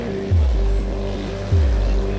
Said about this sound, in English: Dan Carlos flipping his rear tires, pushing that bike so hard, trying to get that second position back.